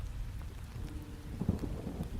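Rain falls steadily in a thunderstorm with lightning, a low continuous thunder rumble beneath it and a louder roll of thunder swelling near the middle.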